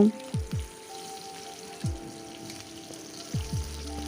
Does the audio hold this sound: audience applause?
no